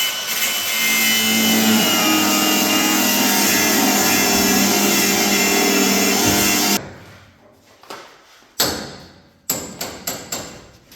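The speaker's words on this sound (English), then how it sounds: "I'm just gonna take a zip cut and I'm gonna cut that off" A cut-off wheel on a 1966 Chevrolet Impala slices off a riveted part with a loud, steady grinding whine for about seven seconds. It then stops, and a few sharp knocks and clatters follow.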